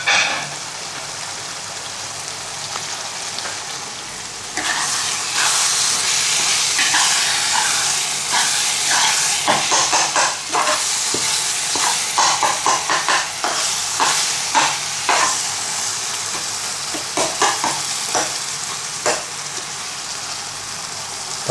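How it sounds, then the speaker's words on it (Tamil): Curry leaves fry in hot oil in a pan while being stirred, a loud continuous sizzle broken by repeated scraping and clinking strokes of a spoon against the pan. "இதில் கருப்பிலி போட்டுட்டேன் அதை கொஞ்சம் கதறி விட்டுருலாம்"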